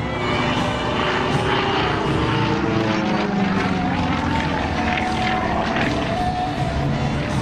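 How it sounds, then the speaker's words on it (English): A 400-horsepower propeller aerobatic airplane performs at an airshow, its engine a loud, continuous droning roar with a shifting pitch as it maneuvers, with a commentator talking over it. "he hangs it on the propeller and 400 horsepower"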